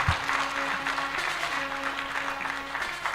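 Gala audience at an awards ceremony clapping together, a steady dense patter of many hands sustained throughout, with a faint tonal hum underneath and no voices.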